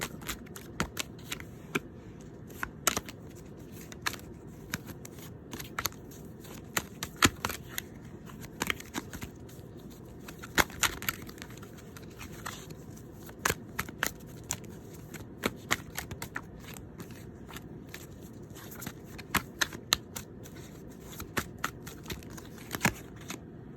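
Tarot cards are shuffled and handled in a steady run of crisp, papery riffles and flicks lasting over twenty seconds, close and fairly quiet, with no talking.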